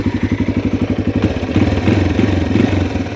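A brand-new 2018 Yamaha TTR230, a small air-cooled dirt bike, idles with the choke on while warming up, a steady close thumping putter that rises slightly in pitch and roughness partway through, with no talking.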